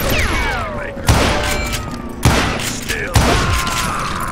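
Gunshots in the Western shooter game Call of Juarez, three sharp booming reports spaced about a second apart over a continuous backdrop of game noise and faint background sound.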